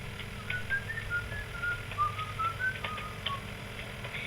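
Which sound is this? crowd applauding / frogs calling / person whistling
person whistling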